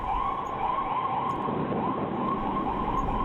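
An ambulance siren wails steadily at a moderate distance, a continuous held tone over low traffic rumble, with no voices.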